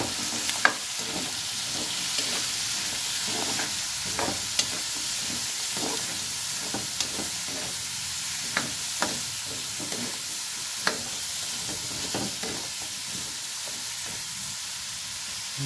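Squash pieces stirred through a sizzling pan of pork sauté in a provincial-style home kitchen, a steady fry hiss broken by repeated scraping clicks of a spatula at a close, even rhythm, with no talk.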